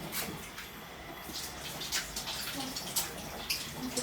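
Tap water runs steadily while hands are washed, with a continuous splashing hiss and some irregular patters and drips, close and moderately loud, with no talking.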